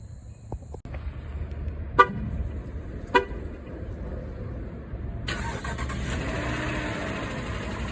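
A Hemi V8 engine cranks and fires on first startup after a quiet stretch with a couple of sharp clicks, then settles into a steady idle.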